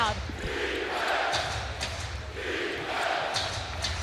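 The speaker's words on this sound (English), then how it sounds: "You can already hear this crowd." Basketball arena crowd at a playoff game, a steady loud roar of many voices swelling and easing in waves, with faint court sounds underneath.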